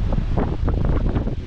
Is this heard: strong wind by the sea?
yes